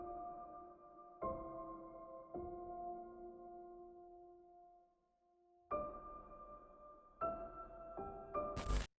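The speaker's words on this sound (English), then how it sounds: "I added like another piano, and it sounds like this by itself." A layered cinematic piano part heard alone: soft, sparse notes and chords with long sustains, a quiet gap in the middle, then a few firmer struck notes near the end, played quietly with no voices.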